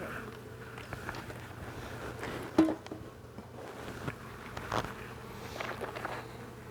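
Honeybees hum around an open hive in a steady low drone, with a few louder bees darting near and faint handling knocks and rustles, no talking.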